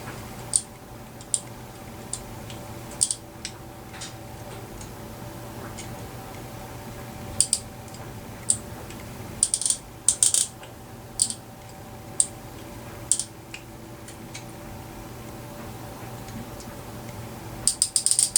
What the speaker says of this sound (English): So I'm going to run the screws, see what's going on.